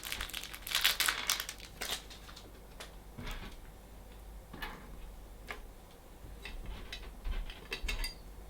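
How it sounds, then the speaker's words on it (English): Tough plastic bags holding 3D printer parts for a Creality Ender 3 Pro crinkle and rustle in sharp, irregular bursts, loudest at the start and again toward the end, close by with no talk. "These are like the world's toughest plastic bags."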